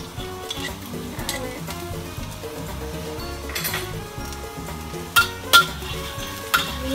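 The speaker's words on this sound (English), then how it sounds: "We need to stir so that it won't get burned." Garlic sizzles in hot oil in a wok while a utensil stirs it for water spinach, a steady close frying hiss with scraping and a few sharp metallic clinks near the end.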